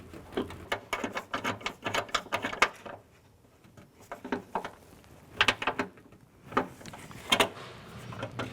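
Bolt and nut being tightened to mount a horn on a 1994-2004 Chevy S10, heard as close bursts of quick ratcheting clicks in several runs separated by short pauses.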